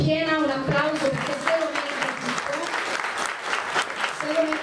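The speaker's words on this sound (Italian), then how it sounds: "Un applauso" Crowd applause with steady clapping at a children's book presentation, mixed with a voice speaking over it throughout.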